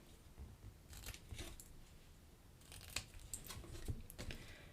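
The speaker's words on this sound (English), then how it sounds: "we're going to just give a little wedge cut to each of these tabs" Scissors snip small wedge cuts into the paper tabs of a handmade gift box lid, a few quiet crisp cuts with soft paper rustling in between, faint and close.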